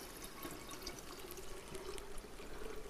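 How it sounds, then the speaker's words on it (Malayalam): Cooled boiled water poured into a jar while making homemade red wine, a faint, steady trickle and splash that runs unbroken throughout. "നമ്മുടെ ഫൈനൽ സ്റ്റെപ്പായിട്ടുള്ള ചൂടാറ്റി വെച്ച വെള്ളം ഒഴിക്കാൻ പോവാണ്"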